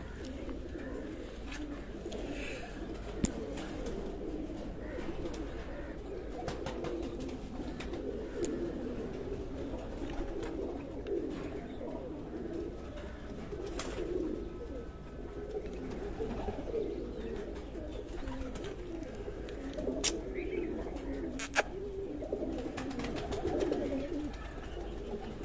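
Domestic pigeons kept at a home loft coo softly and repeatedly, with occasional wing flutters and faint voices in the background.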